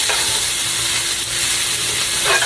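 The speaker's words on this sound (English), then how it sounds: "I'm going to stir up that cayenne pepper in here with the onions, and then just let those cook up a little bit." Onions with cayenne pepper frying in a pan, a steady loud hiss of sizzling oil throughout with faint scraping of a utensil stirring through them, no voices.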